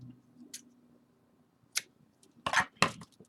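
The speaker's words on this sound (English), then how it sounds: "I'll cut it with scissors." A few sharp, crisp snips sound close by, two of them quick and near together at the end, with quiet in between.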